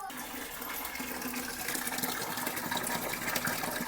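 Water gushes steadily into a heavy-bottomed pot for biryani, a continuous close rushing pour at even loudness throughout with no talking.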